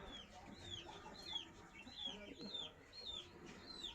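Breeding hens on a farm make repeated short clucking calls near the microphone over steady farmyard background noise.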